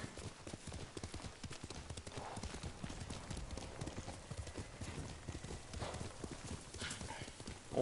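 Horse hooves clip-clop in a steady, dense rhythm with a few brief neighs inside the Ghost of Tsushima video game, moderately loud and continuous, with faint voice-like sounds in the background.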